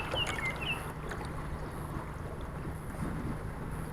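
A boat runs under electric trolling motor power on open water, with a low steady hum buried in continuous wind and water noise.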